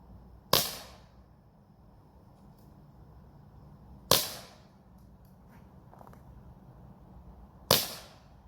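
Three sharp, loud gunshots ring out while plinking at small targets, each spaced a few seconds apart with a short echoing decay and quiet in between.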